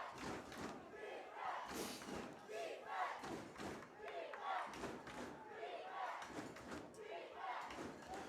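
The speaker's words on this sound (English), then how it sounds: "Here the Valley Panther crowd getting into it" Valley Panthers home crowd at a Thanksgiving Day high school football rivalry game roars and yells continuously, a dense wall of cheering with thumps and shouts throughout.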